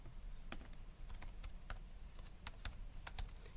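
An expression is tapped into a calculator as a string of light, quick plastic key clicks in an uneven rhythm, faint beneath a steady background hiss.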